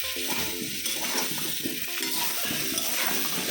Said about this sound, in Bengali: আলুটা ভাজা হয়ে এসেছে